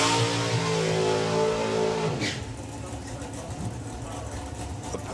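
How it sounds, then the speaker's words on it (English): Drag racing cars at a national finals meet rumble and rev as they pull forward for burnouts, a loud, dense engine roar whose pitch drops and shifts. A commentator talks over the engines. "They're coming forward to do their burnouts."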